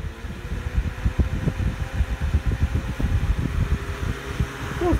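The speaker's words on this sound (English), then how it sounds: "Feels pretty good for a little bitty fan. Got a nice tone to it. I like it. It's noisy." A small Holmes Blizzard electric fan runs on high, giving a steady, close whirring hum with a faint tonal drone and no talk.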